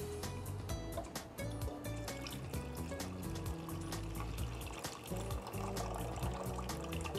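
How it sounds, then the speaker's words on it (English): Clam juice poured into a tomato sauce gives a continuous liquid splashing and gurgling, fairly quiet and steady throughout with no talking. "I'm going to add the clam juice."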